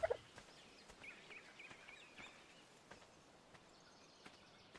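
Dodo birds chirping in the ARK Survival video game, faint scattered high chirps over a soft steady ambient background, with no talk.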